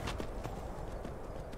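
Horse hooves clip-clop at a quick, steady trot in the Skyrim video game, a close run of evenly spaced thuds over soft background ambience.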